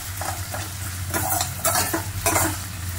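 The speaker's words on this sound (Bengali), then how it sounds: "প্রথমে আলুগুলোকে কড়াইতে একটু ফ্রাই করে নেব" Potatoes fry and sizzle in a wok, with steady crackling hiss and several louder bursts as they are stirred, close and alone with a low hum beneath.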